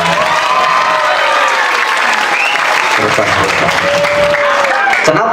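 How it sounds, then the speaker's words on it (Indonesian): An audience at an Islamic boarding school event claps loudly and steadily throughout, with cheering voices mixed into the sustained applause. "Tepuk tangan buat Miftahul Falah."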